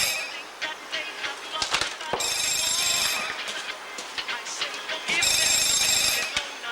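An old-style telephone bell rings in two loud bursts in a garage workshop, with clattering and movement in the background between the rings.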